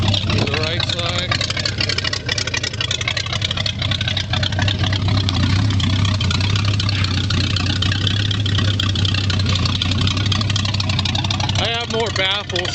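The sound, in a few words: 1923 Ford roadster engine idling, exhaust with single baffles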